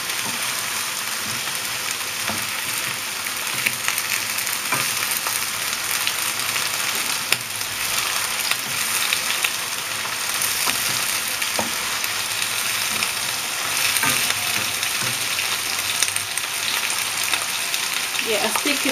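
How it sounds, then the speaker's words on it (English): Mushrooms sizzle in a pan for a king prawn stir fry, a dense, steady crackle of frying that stays close throughout, with faint scrapes of a stirring utensil now and then. "I've added the mushroom, I just stir it."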